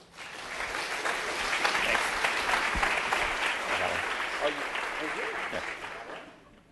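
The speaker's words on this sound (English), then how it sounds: "So please give a big round of applause to Daniel Romano." Audience at a UX and design conference applauds a speaker, steady dense clapping filling the room throughout, loud and sustained before fading at the very end.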